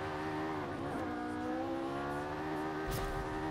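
A Ferrari race car's engine drones in Forza Horizon 5, heard from the cockpit with a steady tonal hum that bends slightly, rises as it revs, and ends in a brief burst of tire noise, with no voices.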